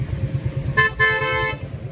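A car horn honks on the road, one sustained blare of about a second standing out over steady engine and road rumble from inside or beside the vehicle.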